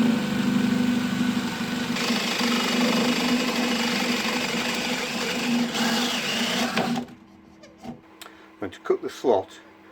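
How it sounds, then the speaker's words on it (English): A small power drill with a 3mm bit runs continuously at a steady high whine for about seven seconds, drilling a pilot hole into a wooden vessel, then stops, leaving a few scattered clicks and taps. "drill a small pilot hole with a 3mm drill"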